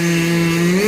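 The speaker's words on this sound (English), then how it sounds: "A couple of guys trying to start saws." A chainsaw at an outdoor chainsaw get-together runs in a brief, steady, loud close buzz with a strong sustained tone that rises slightly at the end.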